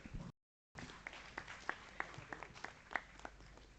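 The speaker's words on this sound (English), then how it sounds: "Give a huge round of applause to all of them." An audience at the VISHLESHAN 2025 event applauds, a faint, thin patter of scattered claps with a few louder individual hits, after a brief silent gap near the start.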